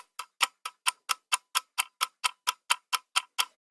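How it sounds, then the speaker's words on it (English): Mechanical oven timer ticking steadily, about fourteen even ticks at a regular pace, close and clear with nothing else audible. "watching that mechanical timer tick down"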